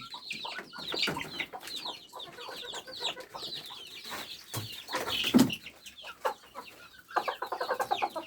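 Hens clucking and cackling in bursts, fairly close, with irregular calls overlapping through the whole stretch.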